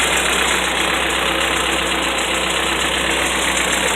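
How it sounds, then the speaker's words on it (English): A BMW E30 M3 engine runs at a steady idle, a close, even, continuous hum with no voices over it. "We're gonna start the car up to check for any leaks."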